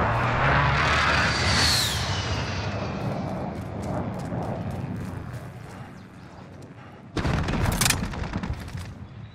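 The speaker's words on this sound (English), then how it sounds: "Be advised, friendly precision airstrike in." Airstrike explosions in Call of Duty Modern Warfare, with a roaring blast and a whooshing sweep at the start that fade into a long rumbling tail. A fresh sharp burst of noise comes near the end.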